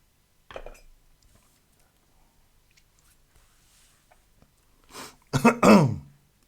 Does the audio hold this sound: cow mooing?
no